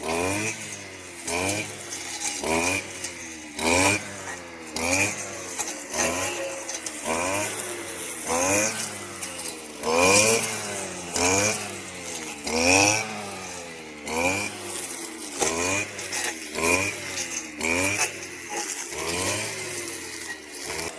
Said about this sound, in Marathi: आता त्या कटरनी कसं काय ती बाग साफ करतात ना तुम्हाला पण दाखवते मी